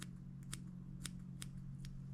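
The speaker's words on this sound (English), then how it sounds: "I put my scissors right where the eyes are, and cut straight up" Scissors cut straight across the materials of a bonefish fly on the hook, giving five or six crisp, separate snips over a steady low hum, close and fairly quiet.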